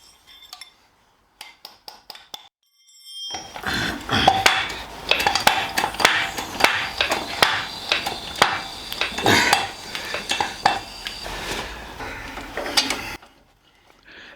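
Metal gear being set up around a 12-ton bottle jack laid on its side in a garage while fighting a stubborn crankshaft damper hub: a few sharp clicks, then a dense, close run of clanking, rattling and clinking metal with no talking.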